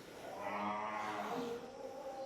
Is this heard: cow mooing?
yes